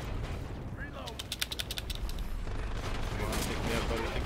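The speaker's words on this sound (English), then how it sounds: "Oof, airstrike." In the online shooter Dirty Bomb, an airstrike lands as a rapid cluster of sharp explosive cracks, followed by a dense, faint rumble of gunfire and blasts.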